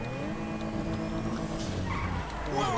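A modded older German car drives in GTA 5, its engine droning and revving with tire squeal and skidding noises, loud and continuous, with a voice speaking faintly underneath.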